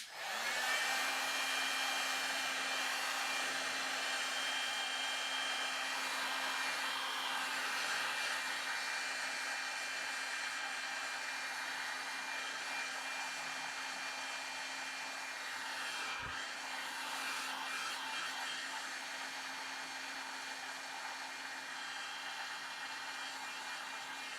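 A heat gun blows with a steady, loud whooshing roar and high electric whine, running continuously throughout with only a brief dip partway through.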